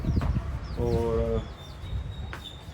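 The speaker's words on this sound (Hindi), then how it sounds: "ये मुर्गी ना बहुत ज़्यादा बोल रही है" An old hen clucks close by, a short run of throaty, evenly pulsed clucks, while someone talks over it and chirping birds sound faintly in the background.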